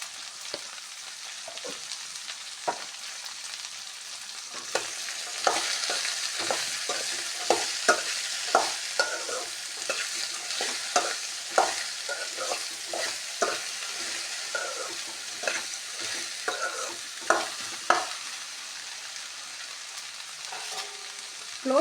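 Vegetable palya stir-frying in a pan, with a steady soft sizzle broken by frequent sharp scraping and stirring strokes from a spatula, close up and moderately quiet, no talking.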